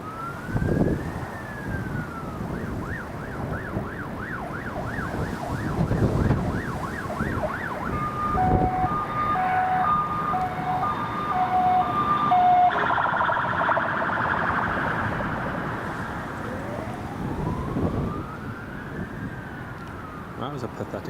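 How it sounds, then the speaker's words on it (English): A wailing emergency siren sounds at a distance near Newcastle Airport during a live planespotting stream, rising and falling repeatedly over steady background noise, fairly faint, with electronic beeping tones partway through. "That was a pathetic siren."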